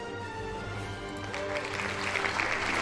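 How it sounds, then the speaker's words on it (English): Applause from an audience at an online Pokémon league awards show swells up after about a second and keeps going as a soft, steady patter beneath a tonal background. "Can I get a round of applause, please, for these MVP"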